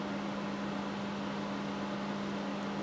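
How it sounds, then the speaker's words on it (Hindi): Inside a Honda City e:HEV car, the air conditioning blows loudly as a steady broadband whoosh with a constant low hum, filling the cabin without pause. "ये एसी चालू हुआ है ज़ोर से"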